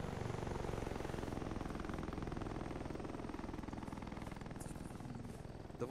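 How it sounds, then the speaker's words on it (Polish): Two helicopters fly overhead in the video game Arma 3, giving a steady, loud, continuous rotor chop and engine drone throughout, with no talking. "Dwa helikoptery nad nami."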